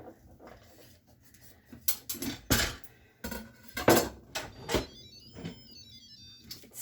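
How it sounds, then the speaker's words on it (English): A knife cuts chicken into strips on a board, with a series of irregular knocks and clatters, close by and moderately loud, plus a brief chiming tone near the end. "I'm just going to cut these into strips and we're going to put them in the slow cooker"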